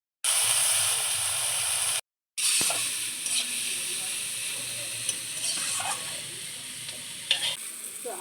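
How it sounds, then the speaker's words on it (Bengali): Onion and tomato with green chilli and salt frying in hot oil in a home kitchen give a steady, close sizzle and hiss, with stirring scrapes and clinks and a brief break near the start. "প্রথমে তেল গরম হতে পেঁয়াজ দিয়েছি আর টমেটো দিয়েছি"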